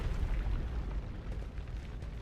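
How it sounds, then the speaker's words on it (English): Explosions in the video game Warhammer 40K Rogue Trader, a continuous rumbling boom with heavy low-end bursts filling the whole stretch, fairly loud and without talk. "It's just all the explosions."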